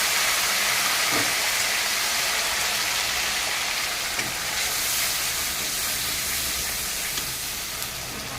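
Fish sizzles in a hot pan as onion paste is added, giving a steady, continuous hiss and crackle of frying oil throughout at moderate loudness, with no talking.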